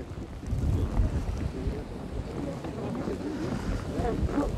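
Wind gusting steadily on a snowy winter day in Korea, a broad roaring rush buffeting the microphone throughout.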